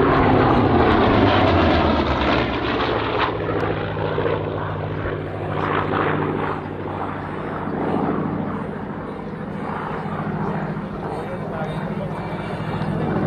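A loud, steady F4U Corsair propeller aircraft engine drones continuously and close by at an air show, with a broad roar that swells and eases slightly over time.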